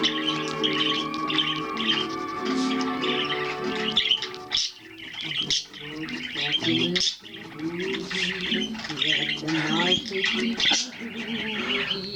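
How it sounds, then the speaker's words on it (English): A bird chirping, cheeping and whistling up close in a busy, continuous run of bright trills and short calls, with a person talking over it now and then. "I call it singing, but it's actually probably chortling, chirping, cheeping, whistling."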